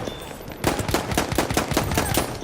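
Rapid bursts of gunfire in the shooter game Battlefield 1, a fast string of cracking shots starting abruptly and continuing steadily at moderate loudness.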